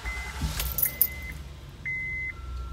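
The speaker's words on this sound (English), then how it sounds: "And we're going to start the car" 2012 Honda Pilot being started: a jangle of keys, a couple of short chime beeps and a soft, quiet engine catch and idle underneath, no talk.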